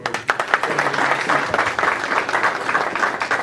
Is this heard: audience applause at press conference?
yes